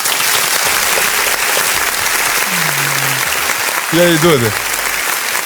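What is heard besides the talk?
audience applause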